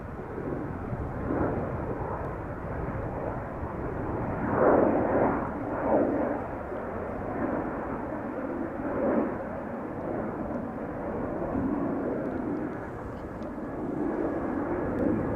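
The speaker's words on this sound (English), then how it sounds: "We have KLM flight 1621 going to Milan" A KLM Boeing 737-800 on departure from Amsterdam Schiphol produces a continuous broad roar of jet engines, steady and moderately loud with gentle swells, and no voices.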